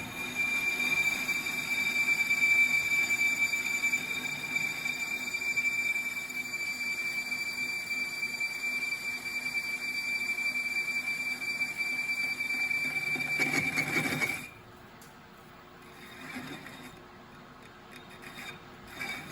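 A TRAK CNC lathe roughs a chamfer on a 9-5/8-inch steel tractor wheel spacer: a steady, high-pitched cutting squeal over a dense grinding hiss runs for about fourteen seconds, then cuts off abruptly, leaving quieter machine hum and clatter.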